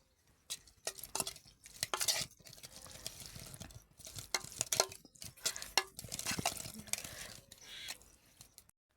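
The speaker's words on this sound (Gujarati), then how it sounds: "તો ચાલો હવે આપણે ભેળવી દઈએ" A spoon scraping and clinking in a pan while masala is mixed into Maggi noodles, with quiet irregular stirring strokes and soft metallic taps heard close up and without talk.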